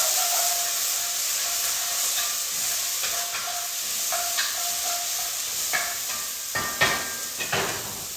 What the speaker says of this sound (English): I'm going to stir this up real quick.